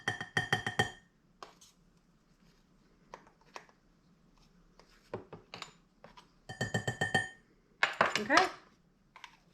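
A metal spoon clinks repeatedly against a container while scooping cream of tartar for snickerdoodle dough, bursts of close, bright tapping separated by quieter pauses, with brief speech near the end.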